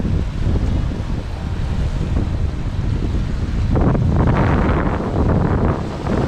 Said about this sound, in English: Eventually, the wind picked up substantially.